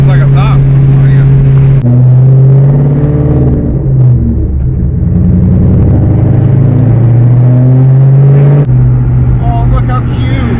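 750HP Shelby GT500 Mustang engine droning loud and steady while driving, with rising and falling rumble and people talking over it.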